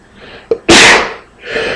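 A single loud, close sneeze with a sharp intake of breath just before it, followed by a softer exhale.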